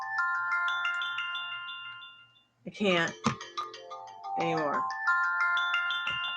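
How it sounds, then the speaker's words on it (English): A phone alarm ringtone plays a repeating electronic melody of bright tones, close and steady. It briefly cuts out, then resumes while people talk over it. "Okay, so I can hear the alarm."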